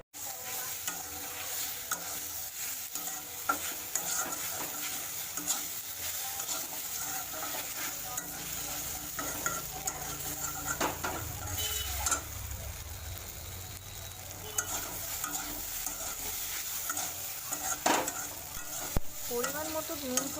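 Food frying in a kadai with a constant soft sizzle, occasional stirring scrapes and a few light clicks of a utensil against the pan, moderately quiet and without voices.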